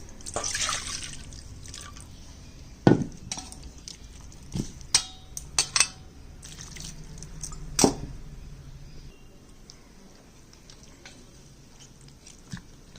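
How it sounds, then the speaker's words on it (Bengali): Water is poured off a bowl of food being washed for a vegetarian dish, giving intermittent close drips, splashes and small knocks over a quiet background, with no voices. "আবার জলটা ফেলে দিচ্ছি। আর একটু জল দিয়ে ধুয়ে নিচ্ছি।"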